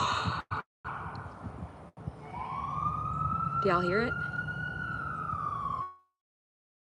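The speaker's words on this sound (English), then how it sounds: "Yes, because they're driving by right now. Oh, that's a fire truck." A fire truck siren drives by, its long wailing tone rising in the middle distance for a few seconds and fading out, while someone speaks briefly over it.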